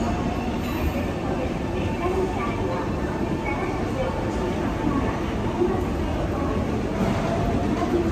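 A JR train in Japan rumbles along steadily as heard from inside a carriage, a continuous loud roar of wheels and motor with no pauses.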